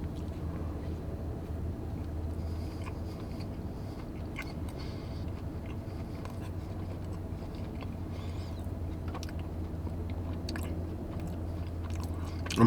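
Someone chews a cream-filled donut from DK Diner, cut down the middle with thick filling, making close, soft, moist mouth sounds over a steady background hiss.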